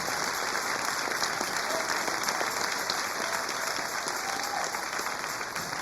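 A church congregation applauds at a morning service, steady dense clapping filling the room evenly from start to finish without pause.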